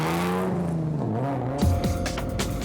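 Race car pulling away in first gear after a pit stop at a Goldwagen Superhatch endurance race at Phakisa, engine revving up through rising pitch with a brief tire squeal, close by and loud.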